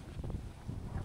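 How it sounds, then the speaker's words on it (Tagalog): Strong wind buffeting a microphone outdoors, a steady low rumbling roar with gusty swells throughout, loud and close with no speech. "ang lakas ng hangin, no?"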